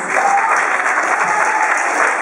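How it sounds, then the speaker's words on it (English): A short, loud burst of applause for a teenage contestant at an engineering game show held at San Jose State, with many hands clapping evenly and closely for the whole moment. "Give her a round of applause"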